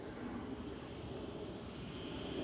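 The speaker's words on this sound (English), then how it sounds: "787 coming down the taxiway" A Boeing 787 airliner taxiing at Schiphol airport gives a steady, fairly faint jet-engine drone with a continuous whine that holds level throughout.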